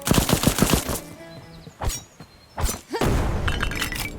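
A loud explosion from the video game Black Skylands, with a burst of sharp cracking blasts followed by further heavy booms and a lingering rumble, with no talk over it.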